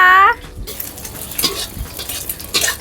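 Thai basil kaprao is stir-fried in a wok at a made-to-order street food stall. A metal spatula scrapes and clatters in quick bursts over a constant sizzle of hot oil.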